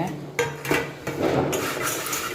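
A spoon clinks and scrapes around a pot as rava is stirred into boiling water for upma, with irregular metallic knocks over a soft bubbling simmer, close and fairly loud.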